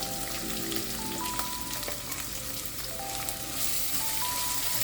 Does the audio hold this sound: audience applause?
no